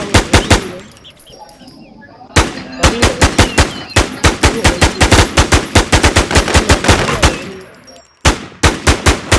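Rapid bursts of automatic gunfire in the survival shooter Infestation, loud sharp shots in quick repeated volleys with brief pauses between bursts.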